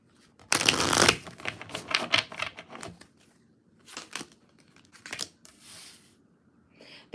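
Tarot cards being shuffled by hand, several quick riffling bursts and softer flicks close to the microphone, with short pauses between them and no talking.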